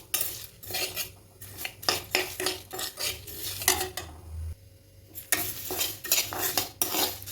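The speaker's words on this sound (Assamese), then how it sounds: "আৰু এইখিনিকে মই ভাজি ল'ম।" Cumin, fennel, mustard, fenugreek and nigella seeds with dried chili fry over a low flame in a pan for a pickle, with a soft sizzle under steady, repeated scraping and clinking stir strokes from a metal utensil, close and without talk.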